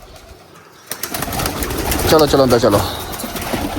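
Pigeons coo and flutter in a loft while a man repeatedly calls out over them, urging the birds inside; soft cooing and wing rustles rise after the first second and continue under the voice.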